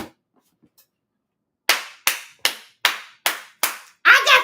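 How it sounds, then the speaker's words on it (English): A podcast host claps seven sharp, evenly spaced times, close and distinct after a brief silence. "I got to clap for that."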